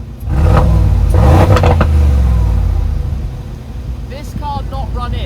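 A V8 engine in an AMG GT Black Series sports car revs hard and loud up close for about three seconds, then settles to an idle, with people talking over it.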